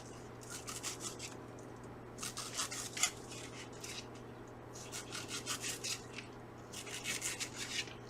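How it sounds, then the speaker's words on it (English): A small knife slices a strawberry into thin pieces on a board, making soft rasping cuts in short bursts separated by pauses, close and quiet with no talk. "I'm going to cut my strawberry up to the stem."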